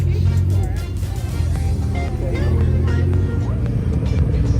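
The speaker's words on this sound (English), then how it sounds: "Some R35 GTRs leaving the scene" Several Nissan R35 GT-R sports cars pull away from a car meet, their steady engine drone loud and continuous with revving swells, while voices chatter underneath.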